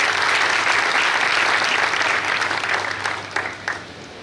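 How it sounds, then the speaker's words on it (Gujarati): An audience at a community awards ceremony claps loudly together in sustained applause that thins out and fades near the end. "એકવાર જોરદાર સમાજ માટે તાળી પાડો."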